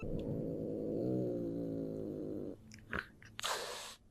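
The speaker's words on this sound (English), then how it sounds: "Growling is a sound that cats make when they feel angry, threatened, or need to warn off a potential danger." A cat's low, sustained growl rumbles close up for a couple of seconds, then gives way to a few short breathy sounds and a brief hiss-like burst.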